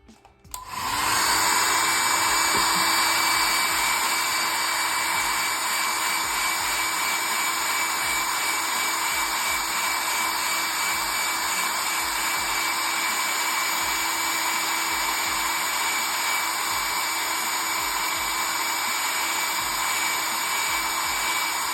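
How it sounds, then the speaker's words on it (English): Heat gun blowing steadily to dry a decoupage coaster, a loud continuous whirring roar that starts abruptly and holds unbroken throughout, with no talking. "now I'm going to dry this with my heat gun"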